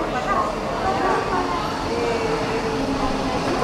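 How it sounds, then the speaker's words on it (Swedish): A train rolls into Copenhagen Central Station with a steady low rumble and rail noise, while voices talk over the hum of the platform. "Nu kommer tåget här."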